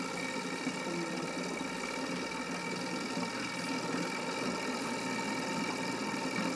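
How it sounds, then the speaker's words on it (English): An engine runs on oxyhydrogen in a heating workshop, giving a steady, even mechanical hum and buzz that carries on without a break. "you can see how the engine works."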